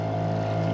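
A sailboat's engine runs at steady cruising speed while motor sailing under raised sail on a lake, a constant low droning hum with a fixed tone throughout, close by and without pause.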